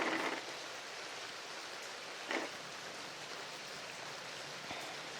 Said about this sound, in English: It has not stopped raining all day.